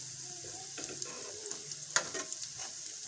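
Cauliflower and potato kebabs fry in a pan, giving a soft, steady sizzle broken by a few crackles and light stirring scrapes, with no one talking.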